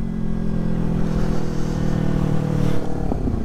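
Heavy road traffic on a busy street, with a steady engine drone and passing motorcycles and cars revving and clattering close by, loud and continuous throughout.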